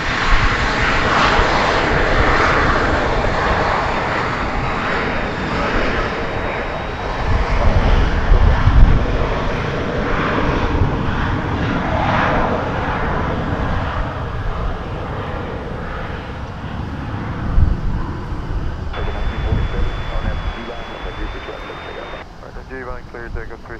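Airliners at DFW Airport, a loud continuous jet engine roar rising and falling as planes taxi and take off, with wind noise, someone talking over it and radio chatter near the end.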